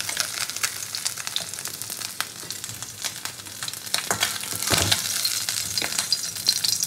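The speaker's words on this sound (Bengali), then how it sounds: "বাদ বাকি মাছগুলো আমি সুন্দর করে ভেজে নিয়েছি" Morola fish fry in hot oil with a loud, dense crackling sizzle, dotted with sharp spits and pops and a brief scrape of a utensil lifting the pieces.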